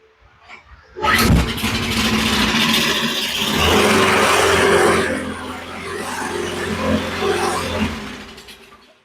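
A Toro Recycler lawn mower with a rough-running fault sputters briefly, then catches and starts, its engine roaring loudly and steadily up close before easing slightly toward the end.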